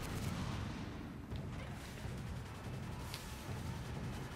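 Artillery fire in the Toy Soldiers: Cold War video game, a dense, continuous low rumble of booming shots and blasts that stays loud and steady throughout.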